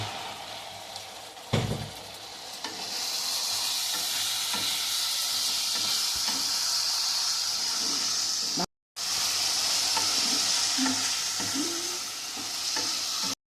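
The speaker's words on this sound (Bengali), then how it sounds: "এবারে এটাকে আমি ভালো করে নেড়ে নিলাম 2-3 মিনিট।" Pointed gourd being stirred and fried with rice flour in a pan, a bright continuous sizzle with occasional spoon scrapes and a sharp knock early on, close and steady.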